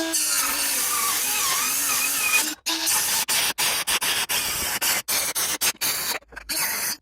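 A power saw cuts through aluminum transom material for a jon boat, a loud, harsh, continuous screeching whine broken by several abrupt stops and restarts in the latter half.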